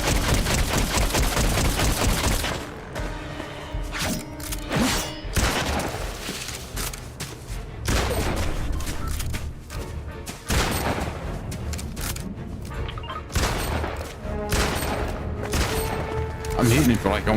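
Video game gunfire as a player empties every round of ammo into an enemy, dense loud bursts of rapid shots and booms running almost continuously, with brief gaps and a voice talking underneath.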